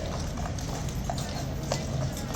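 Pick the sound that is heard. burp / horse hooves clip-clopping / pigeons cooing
horse hooves clip-clopping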